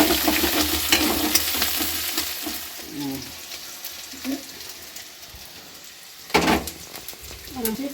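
Chopped onions fry in a pan with a loud, steady hiss, crackling close up, broken by a few stirring clatters, with a sharp burst of sizzle near the end and faint voices at times.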